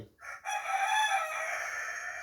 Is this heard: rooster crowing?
yes